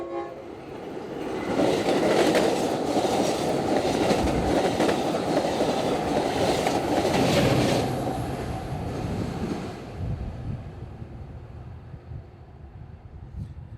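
A Chicago Metra commuter train rumbles past close by on a nonstop run, its clatter building quickly, holding loud for several seconds, then fading away into quiet.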